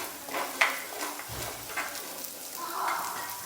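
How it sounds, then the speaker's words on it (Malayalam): Chilli powder, coriander powder and ground fennel sautéing in oil for a fish curry, with a soft steady sizzle, scraping stirs and a brief utensil clink near the start. "ഇവ ചേർത്ത് നന്നായി വഴറ്റിയെടുക്കാം"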